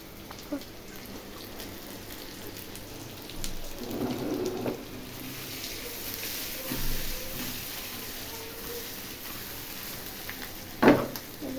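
Continuous crackling sizzle of potato snack frying in hot oil, steady throughout with a few louder pops and clatters.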